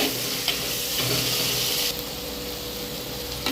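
Onions fry in oil for a chicken gravy, giving a constant loud sizzle with occasional stirring scrapes close up and no talk.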